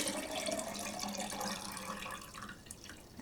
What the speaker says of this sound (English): now we're going to add cold water to this jar and almost fill it up.